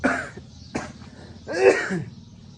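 Several rough coughs and throat-clearing hacks from one person with a cold, close by, separated by short pauses.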